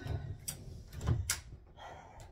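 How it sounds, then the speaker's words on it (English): A door being closed indoors during a home yoga session: a couple of close knocks and a dull thump as it shuts, followed by faint rustling. "Now I'm gonna close the door."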